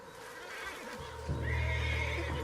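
A horse neighs loudly and close in the Red Dead Redemption 2 video game, a single shrill whinny over soft hoof clopping and low ambient rumble, with no talk.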